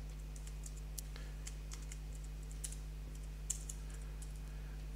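Soft, close keystrokes tap out in quick irregular bursts on a computer keyboard, faint against a low steady hum.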